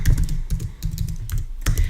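Rapid, close keystrokes on a computer keyboard while a link is entered for a WordPress blog page, a dense steady patter of clicks with brief pauses and no talking.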